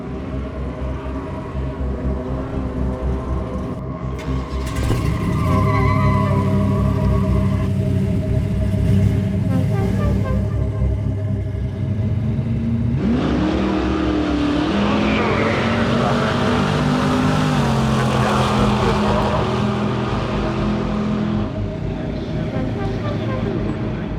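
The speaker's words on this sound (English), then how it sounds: "a vintage race car like this, or any race car, is just the fact that it's so goddamn loud" A loud vintage race car engine at an underground drag racing scene in Los Angeles, rumbling close by and then revving up with a rising, roaring pitch, while people talk over the engine noise.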